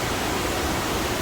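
Waterfall at the Sinks in the Great Smoky Mountains, a steady, full rushing roar of falling water, loud and even throughout with no voices.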